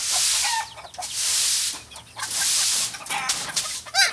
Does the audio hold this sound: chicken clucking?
yes